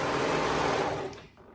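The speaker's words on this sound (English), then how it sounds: "I will be using my serger" A serger sews the shoulders of knit fabric together in a steady, dense mechanical whir. The hum is close and continuous, then fades and slows toward the end as the machine stops.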